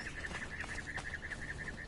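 A bird in a jungle of the game Conan Exiles gives a rapid, even series of short repeated chirping calls, faint and steady over soft ambient background, with no voices.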